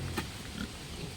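A pig grunts in a brief, close burst over low, rumbling farmyard background noise, with a short higher snort near the start.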